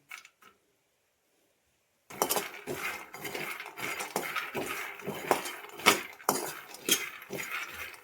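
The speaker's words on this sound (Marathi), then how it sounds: "शेंगदाणे आपण भाजायला टाकले तव्यामध्ये ना की असं हलवतच राहायचं" After a quiet start, peanuts rattle and scrape against a metal griddle as they are stirred repeatedly while dry-roasting, in an uneven clattering rhythm.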